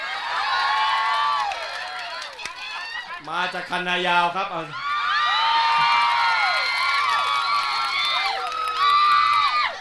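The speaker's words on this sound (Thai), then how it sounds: "แล้วก็เสียงเชียร์ข้างหน้านี่ดังมากเลยครับเนี่ย" A crowd cheers loudly at a Bangkok governor election campaign rally in Min Buri: many voices shout and whoop continuously and close by, while someone speaks over the noise.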